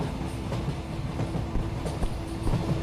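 A train passing in a video game: a continuous loud rumble with rhythmic clickety-clack of wheels over rails, close and steady for a few seconds, no talking.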